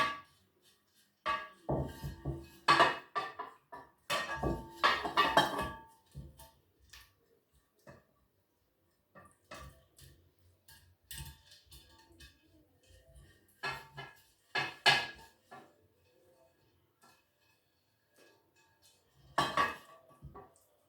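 Flour shaken into a greased metal cake pan while making an orange soda cake: scattered bursts of tapping and light metallic clatter separated by quiet gaps, close and fairly soft.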